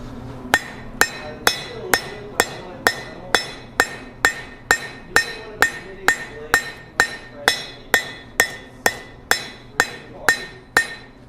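A hammer strikes hot steel on a ringing anvil while a spring swage is made, about twenty evenly spaced, loud metallic blows, each ringing briefly before the next.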